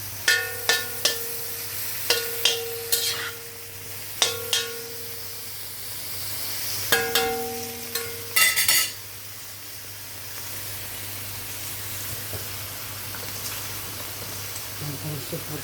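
Chop suey vegetables stirred in a frying pan, with a series of sharp utensil clinks and scrapes over a quiet sizzle, then a soft steady fry for the rest with no further stirring.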